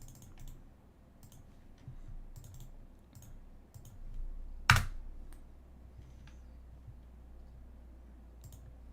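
Soft typing on a computer keyboard runs through a news show, scattered light clicks at a modest distance, broken by one sharp louder click midway, with no voice speaking.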